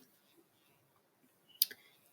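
A single sharp computer mouse click sounds near the end against a quiet background, with faint low murmuring before it.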